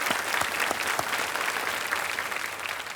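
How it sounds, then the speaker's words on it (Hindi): Steady applause from a studio audience on the Kaun Banega Crorepati quiz show set, many hands clapping at once, dense and sustained throughout without talk. "तालियां एक बार फिर बज जाएं इनके लिए।"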